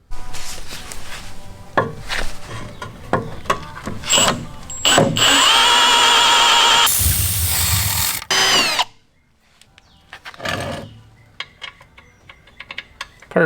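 A power drill bores a hole in the side of an LS1 engine's cast aluminum oil pan. Sharp clicks and handling knocks lead into a loud sustained whine of a few seconds, then a brief quiet and scattered taps.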